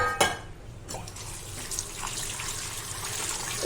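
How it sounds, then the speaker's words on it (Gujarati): Soaked sago pearls are washed in water in a kitchen, with continuous running and sloshing water and a few brief splashes and clinks of a vessel. "આ સાબુદાણા જે આપણે કાલ રાતે પલાળ્યા હતા એને હવે આપણે પાણીમાં વ્યવસ્થિત ધોઈ લેશું"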